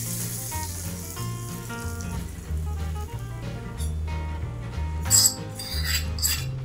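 A hot tempering (phodni) is poured into raw mango dal seasoned with sugar and salt, giving a steady sizzle beneath prominent background music, with brief clinks near the end.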